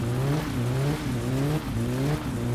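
Car engine from My Summer Car running steadily with a rising and falling drone of revs, a few gear-change dips, close and loud with no voices.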